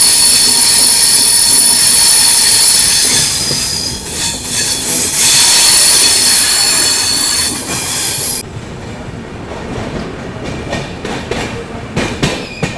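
Rajdhani Express passing through Hajipur Junction without stopping, a loud close rumble of wheels with steady high squeal and clatter, easing into rhythmic clicking and rattling of rail cars in the second half.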